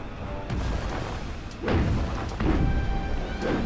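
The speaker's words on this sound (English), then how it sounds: "As I continuously destroy buildings." Rockets slam into buildings in Psychonauts, with three or four heavy booming impacts spaced about a second apart and low rumbling debris between them. No one is talking.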